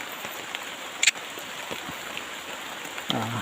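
Steady rain falls outdoors, a soft continuous hiss with a few sharper knocks and clatters breaking through.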